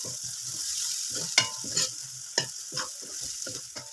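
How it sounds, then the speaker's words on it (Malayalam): Onions sautéing in a pan with curry leaves and crushed ginger and garlic for a Kerala-style chicken curry, giving a steady close sizzle broken by repeated spoon scrapes and clinks against the pan. "കറിവേപ്പില ഇട്ട് കൊടുക്കുന്നുണ്ട്. പിന്നെ നമ്മൾ ഇഞ്ചി വെളുത്തുള്ളി ഇടിച്ചതും ഇട്ട് കൊടുക്കുന്നുണ്ട്."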